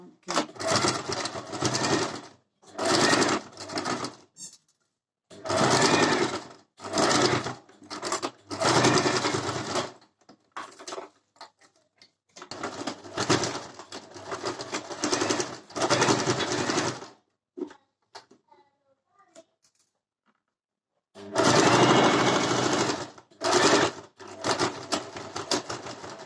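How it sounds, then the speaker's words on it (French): A sewing machine stitches along a marked line on a fabric face mask in repeated loud bursts of rapid whirring, each a few seconds long, separated by short pauses. "je vais coudre sur la ligne"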